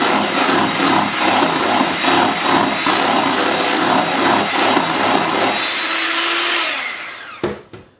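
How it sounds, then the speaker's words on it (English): A spatula stirs lemon cream filling made with fresh lemon juice for crepes, giving a steady, close, rhythmic scraping and squishing that carries on for several seconds before stopping abruptly. "We're going to mix this all together."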